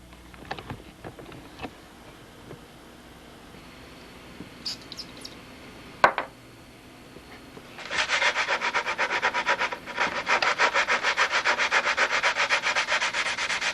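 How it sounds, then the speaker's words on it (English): Balsa wood on a model airplane part is sanded: quiet handling taps and knocks at first, then from about eight seconds a loud, steady rapid back-and-forth rasp of sandpaper close by, briefly pausing once, with no talking. "I want to get both sides of this sanded out"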